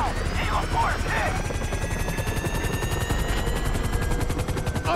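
A helicopter's rotor chop beats steadily and loudly in a GTA 5 mission, mixed with bursts of gunfire and scattered shouting.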